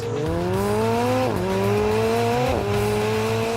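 A McLaren 720S accelerating hard, its engine note rising loud and steady through the gears with two brief dips at the shifts, close and continuous, with no talk.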